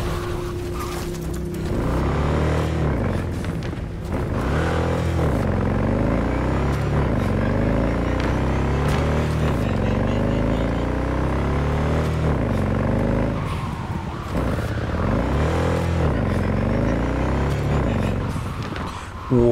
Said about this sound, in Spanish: Yo la moto de Jackie suena medio raro.